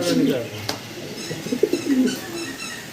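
Pigeons coo softly inside a pigeon house holding black checker birds, low murmuring calls repeating throughout with faint wing and chirp sounds, while someone talks over them.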